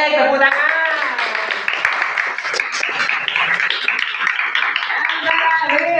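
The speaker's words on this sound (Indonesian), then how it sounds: "Baik, tepuk tangan." Classroom applause during an Islamic history lesson: a group of students clapping steadily for several seconds while voices talk over it.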